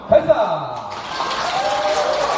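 A crowd at a first-birthday party claps and cheers in a dense, sustained wash of applause, with a voice briefly heard at the start.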